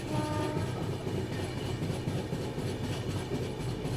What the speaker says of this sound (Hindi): यहाँ पे अपनी क्रॉसिंग हो रही है भोपाल जोधपुर एक्सप्रेस से